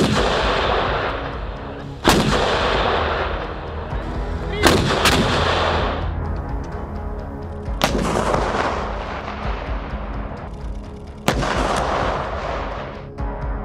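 Heavy 155mm towed howitzers firing, loud deep booming blasts at irregular intervals, about five shots, each with a long rumbling echo that fades into the next, outdoors with no talk.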